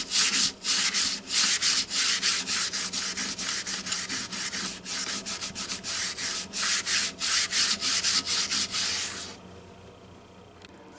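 An old wood finish is scrubbed and sanded with steady, rhythmic back-and-forth strokes, loud and close, that continue for about nine seconds before stopping, leaving a quiet hum.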